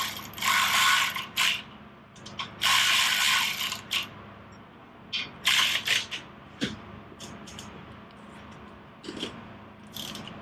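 A ratchet tightens the front wheel of a 2006 Harley-Davidson Softail Standard during a DIY wheel job, with several bursts of rapid, close metallic clicking broken by short pauses and quieter handling noises.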